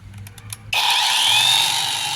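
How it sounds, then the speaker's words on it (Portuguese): An electric sander switches on abruptly after a few light clicks, settling into a loud, steady high whine as it drives a water-pressurization engine. "eu vou ligar agora a minha lixadeira"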